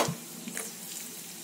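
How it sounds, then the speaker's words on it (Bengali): Nigella seeds crackle as they hit two spoonfuls of hot mustard oil in a kadai, a soft, steady frying sizzle heard alone and fairly faint throughout. "কড়াই গরম করে কড়াইয়ের মধ্যে দু চামচ সর্ষের তেল দিয়ে তার মধ্যে কালো জিরে ফোড়ন দিয়ে দিলাম"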